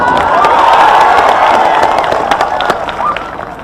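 A large crowd at an outdoor election rally in Aurangabad cheers, shouts and claps loudly and continuously, the roar slowly easing toward the end.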